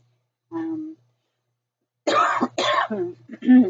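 A short vocal sound, then a burst of several harsh coughs and throat clearing close to the microphone.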